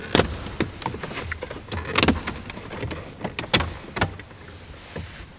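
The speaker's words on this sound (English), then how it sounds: "First you need to remove this piece of trim here." Trim piece pried off the dashboard of a 2014 VW Golf 7 GTI, with a series of sharp plastic clicks and snaps at irregular intervals, close and clear with no talking.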